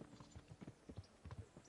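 Horse hooves clip-clop in the medieval role-playing game Kingdom Come: Deliverance, a quiet, steady run of soft thuds close by with no talk over them.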